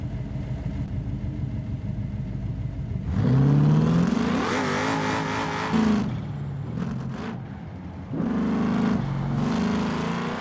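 A race car in BeamNG.drive on a tarmac hill climb, accelerating hard up to about 150 km/h, engine revving up and shifting through gears, loud and close with brief lifts between pulls.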